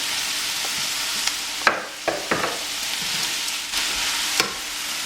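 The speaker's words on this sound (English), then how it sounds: "So in goes our courgette ribbons." Courgette ribbons fry in a hot pan with a steady, loud sizzle, broken by a few scraping stirs and turns as they are folded over, with no talking.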